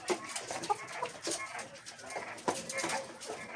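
Hens in a coop clucking and calling in short bursts, with scattered bird sounds and muffled background noise, moderately close.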